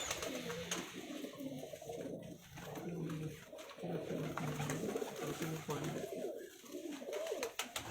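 Pigeons of a show breed coo in repeated low throaty phrases, near and fairly loud, with someone talking over them throughout.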